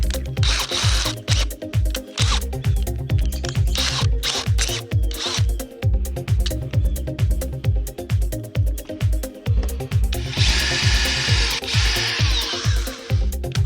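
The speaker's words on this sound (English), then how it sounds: "Then I can drill it straight down with the drill block after that." A power drill with a 5/16 bit bores a pilot hole while fitting PVC tracks to a utility trailer for a kayak, grinding in a steady, pulsing whir up close, with brief higher-pitched bursts.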